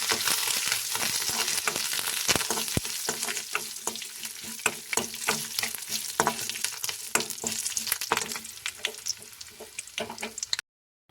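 Cumin, urad dal, chana dal, mustard seeds and dry red chillies frying in hot oil as tempering for a tamarind-leaf chutney, with a loud continuous sizzle, crackling pops and stirring scrapes close by, cutting off at the end.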